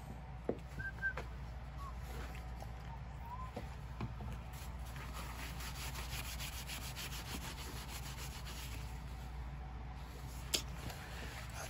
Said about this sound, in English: We're going to sand the surface a little bit of those cracks to see if we can try to fill them in and bring them back.